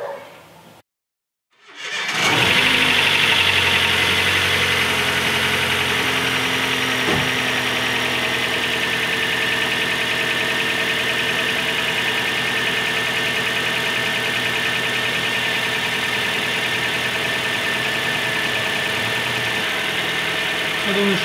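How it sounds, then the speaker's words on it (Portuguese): After a brief silence, a Chevrolet Corsa Classic engine with a newly replaced radiator cranks and catches, then settles into a steady, loud idle with a low rumble and faint mechanical knocking throughout. "vou ligar o carro e a gente vê como vai ficar."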